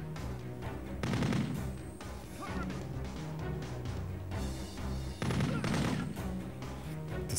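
Gunfire from the PS2 shooter game Kill Switch, dense bursts of rapid shots with two louder volleys standing out, steady and close throughout with no talking.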